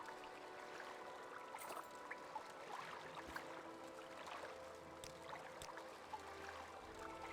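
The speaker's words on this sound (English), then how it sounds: "Water sounds as loud as ever." Water flows steadily in Morrowind as a faint, continuous watery babble with small splashy accents and no voices.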